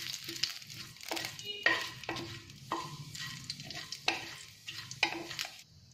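Cumin, bay leaf and black pepper frying in hot ghee, giving a quiet crackling sizzle broken by repeated spoon stirring strokes, with no talking.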